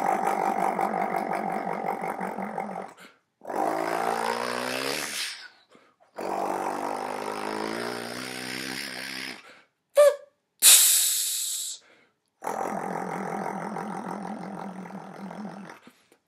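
A human voice imitates a diesel engine truck in several long, rumbling, growling bursts of a few seconds each, separated by short silences and one brief hissing blast near the end.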